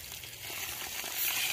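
Food frying in a pan on a gas cooker grill outdoors at a picnic spot, a steady soft sizzle and crackle throughout, growing slightly louder toward the end, with no talking.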